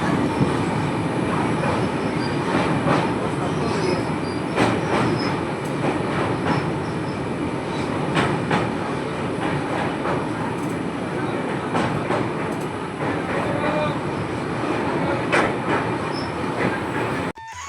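A North India-bound train rumbles steadily along the rails with rhythmic clicking wheels and occasional metallic squeals, loud and close throughout.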